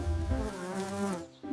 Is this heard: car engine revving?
no